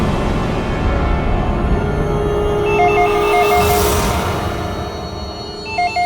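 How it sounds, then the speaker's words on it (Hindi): Telephone ringing in a Hindi crime drama scene, two bursts of a repeated electronic trilling ring over a busy, noisy background, the second starting near the end, with no talking. "फोन उठाओ"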